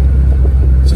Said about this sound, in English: There's a downshift to second without clutch double clutching.